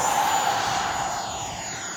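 Freewing F22 90mm v2 EDF RC jet on a Turnigy 6S 5500 mAh battery flying past, a steady loud rushing whoosh of the electric ducted fan with a high whine, sustained and fairly close.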